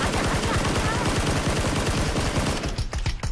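Rapid, sustained automatic gunfire in the video game PUBG (Battlegrounds) rattles continuously at high volume, tapering into a few scattered shots at the end.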